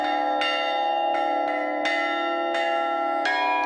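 A 75-year-old strikes a church bell with a hammer, picking out Jingle Bells: bright ringing strikes spaced unevenly across the clip, each ring sustaining and overlapping the next, loud and close with no other sounds.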